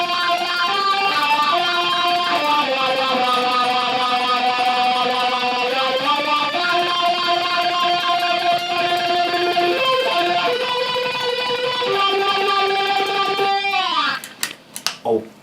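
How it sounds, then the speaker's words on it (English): Electric guitar riff tremolo picked through a wah pedal, rapid continuous picking of shifting notes with a sweeping vocal-like filter, loud and close, running steadily for about fourteen seconds before a few scraping noises at the end. "What I do there is I tremolo pick all those notes, and I use a wah, so it sounds like this."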